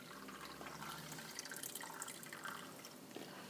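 Cold water poured into a bottle container for a heat and cool water lab, a soft steady trickle and splash with some dripping, fairly faint and continuous.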